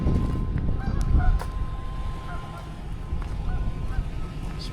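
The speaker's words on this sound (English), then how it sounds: "We got ducks." Ducks at a rainy lake campsite in Lake Catherine State Park give repeated honking quacks at mid distance over a steady wash of rain and outdoor noise.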